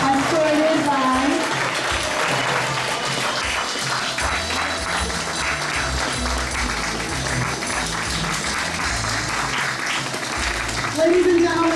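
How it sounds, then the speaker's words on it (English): A crowd at an honors ceremony claps steadily and loudly throughout, sustained applause filling a large room, with voices mixed in beneath. "once again, a round of applause for this evening's dignitaries and honorees"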